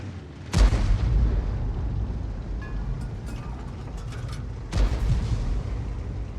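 Object 261 self-propelled artillery in a tank battle game: two heavy booming blasts several seconds apart, each a loud close thump with a rumbling tail.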